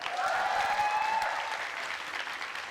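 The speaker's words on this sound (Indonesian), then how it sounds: "tepuk tangan dong" Applause from an Indonesian TV talk-show studio audience, a short, full burst of clapping that holds steady for a couple of seconds and then eases slightly.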